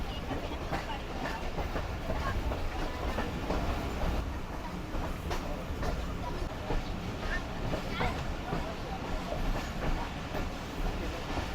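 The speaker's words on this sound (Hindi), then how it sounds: "ट्रैक चेंज करके मेन प्लेटफॉर्म पर लग रही है ट्रेन" The Jaffer Express passenger train, pulled by a Chinese locomotive, rolls along a platform at Wazirabad with a continuous rumble and rail clatter. Nearby voices talk throughout.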